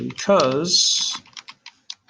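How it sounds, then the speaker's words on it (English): Typing on a computer keyboard follows a spoken word, a handful of separate light key clicks tapping irregularly and close. "I'll go ahead and type in"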